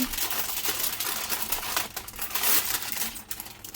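Tin foil being rolled up around food like a burrito, with close, dense crinkling and crackling that continues throughout and rises and falls in bursts.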